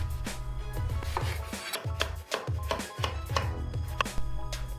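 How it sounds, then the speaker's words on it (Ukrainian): A knife slicing eggplant into fairly thick rings on a cutting board, a regular series of about eight distinct close chops with crisp knocks, no talking. "Для цього нарізаємо баклажани ось такими кільцями"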